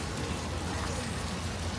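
Rain falls steadily outside a mall on a wet afternoon, a faint, even hiss of drops on hard surfaces that fills the whole moment without a break.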